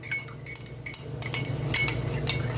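A spoon clinks and scrapes against a cup while stirring a drink, a steady run of light metallic ticks close by, with no talking.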